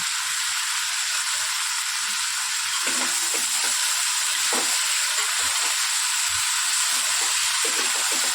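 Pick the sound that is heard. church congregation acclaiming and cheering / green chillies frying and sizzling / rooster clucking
green chillies frying and sizzling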